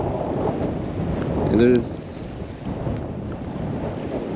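Strong, cold wind at a nearly deserted lake buffets the microphone in a continuous loud roar, with a brief voice speaking partway through.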